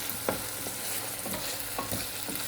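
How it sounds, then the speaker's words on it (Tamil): Tomatoes sautéing in a pan for a chickpea curry, a steady sizzle with a few stirring scrapes close by. "தக்காளி சேர்த்துட்டு நம்ம நல்லா வதக்கி விட்டுக்கலாம்."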